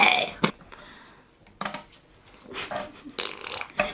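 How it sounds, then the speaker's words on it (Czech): Slime squeezed to make fart-like noises, a few short wet bursts with gaps between them, close and fairly quiet, with voices talking around them. "Ono to prdí, to je prdící sliz."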